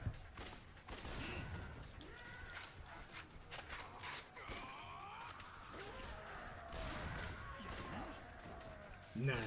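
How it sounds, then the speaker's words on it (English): Gunfire in the action game Yakuza: Dead Souls, with repeated rapid shots and impacts crackling through a busy, faint combat mix. "if you want a lot of shooting, there's a lot of shooting in this"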